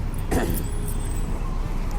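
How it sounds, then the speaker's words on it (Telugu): A city bus in the early morning near a park by Ambedkar Stadium, passing as a brief low engine rumble blended into general road noise. "సిటీ బస్సు పోతుంది పొద్దున్నే స్టూడెంట్స్"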